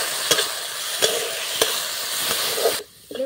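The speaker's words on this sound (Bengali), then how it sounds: "এই ডালটা আমি দিয়ে দিচ্ছি। ডালটা ভেজে নেব।" Lentils frying in hot mustard oil in a wok, a close steady sizzle broken by regular scraping stirs, then an abrupt drop to near quiet followed by a couple of faint clinks.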